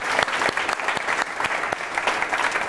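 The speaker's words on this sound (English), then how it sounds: "Can we have another round of applause," An audience claps for a speaker at a Chew the Fat talk event: steady, dense applause with sharp individual claps, moderately loud and sustained, with no voices over it.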